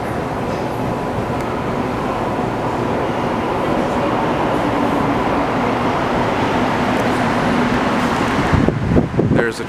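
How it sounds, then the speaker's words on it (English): A Montreal STM metro train heading toward Montmorency and Laval rumbles past with a steady, loud broadband roar that holds evenly, broken by a few sharp knocks and clatters near the end. "There's a train going towards Montmorency and Laval."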